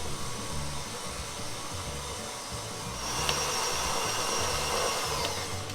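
A stand mixer kneads buttered panettone dough with a steady motor whir and a low rhythmic churning thump, running continuously and growing slightly louder partway through.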